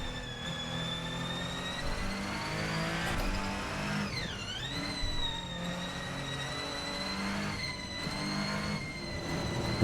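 Ferrenzo P49 hybrid race car with a 200 kilowatt electric motor and active four-wheel drive on a push lap in Assetto Corsa, a continuous high-pitched engine whine with gear shifts and a sharp dip and rise in pitch midway, steady and close.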